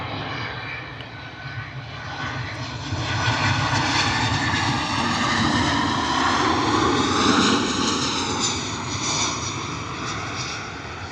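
Ryanair plane landing at Bristol Airport in a crosswind, a loud continuous jet engine roar that swells and slowly shifts in pitch as the aircraft passes nearby.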